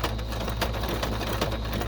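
A sewing machine runs a back stitch with a fast, even mechanical chatter and a low motor hum, close and steady throughout.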